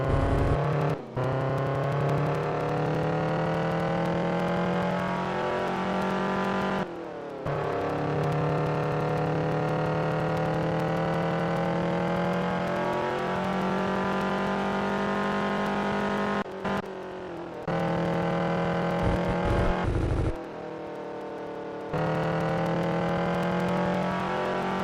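Race car engine in a mobile racing game on an iPad roars loudly and steadily for many seconds, cutting out briefly a few times as acceleration drops, then revving back in.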